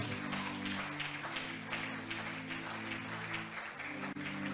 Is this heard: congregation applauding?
yes